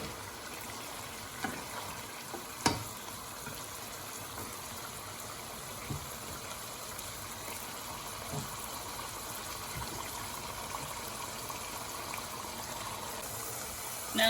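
Chicken pieces sizzle steadily in a frying pan for a roast chicken dish while being stirred, with a continuous hiss broken by a few sharp utensil clicks.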